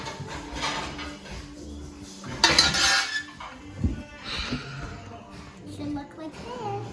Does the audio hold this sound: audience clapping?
no